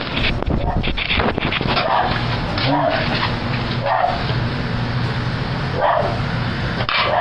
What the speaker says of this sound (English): What is she barking about now?